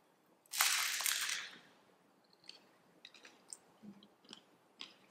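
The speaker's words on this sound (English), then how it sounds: "The crunch of the shell" A crunchy bite into a taco shell filled with black bean and quinoa, a loud crisp burst up close followed by quieter intermittent chewing clicks in a calm room.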